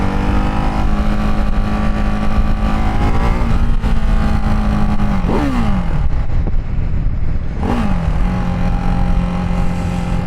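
A Ducati Hypermotard 698 single-cylinder motorcycle roars close up on the road, its engine note climbing steadily and then dropping sharply twice as the quick shifter changes gear, loud throughout with no talking.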